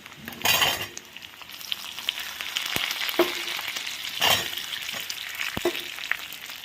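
Cubed capsicum hits a hot pan and fries with a steady, close sizzle, broken by a few sharp clinks of a utensil against the pan.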